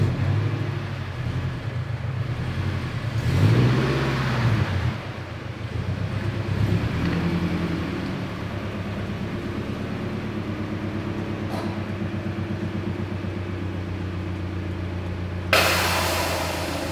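A Duramax diesel pickup truck rumbles steadily at close range as it pulls into a shop, a low engine drone holding throughout with a brief louder whoosh near the end; no one talks.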